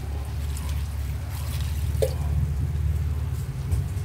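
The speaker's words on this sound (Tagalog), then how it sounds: "Lagyan natin ng konting tubig." A little water pours into simmering chop suey broth in a cooking pot, a soft continuous trickle with a faint splash over a low steady background hum.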